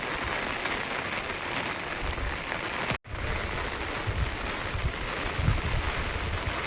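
Rain falls steadily in a large jungle, a dense, even hiss of drops with a brief cut partway through and no voices.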